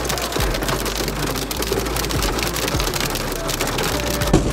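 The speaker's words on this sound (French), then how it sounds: "Il y a carrément de la graine, c'est pas juste la pluie" Heavy rain mixed with hail pelting down during a sudden thunderstorm, a dense, steady hiss and clatter of drops on surfaces with scattered sharper impacts, loud and continuous throughout with no voices.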